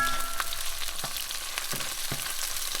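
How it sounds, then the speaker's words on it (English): Sliced green onion sizzles steadily in extra virgin olive oil for a spicy beef and vegetable soup, broad crackling hiss throughout with a few soft scraping stir strokes cutting through, close and fairly loud. "I'm gonna start off by adding some sliced green onion."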